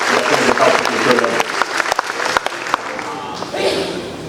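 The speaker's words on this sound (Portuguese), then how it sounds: "Eu peço uma salva de palmas para o pastor Caraquian" A church congregation at a missionary conference breaks into loud, close applause that swells, then thins into scattered claps before fading near the end.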